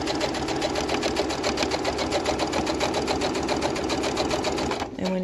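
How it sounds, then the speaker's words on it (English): A sewing machine runs steadily as it stitches straight down the side of a fabric mask, a fast even chatter close up that stops abruptly near the end. "next thing we're going to do is sew. And we're just going to go straight down the side here"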